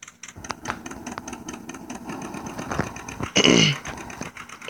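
Tractor engine in a tractor pulling video game, with a moderate mechanical rumble and irregular clunks that build to a brief louder, rasping burst near the end.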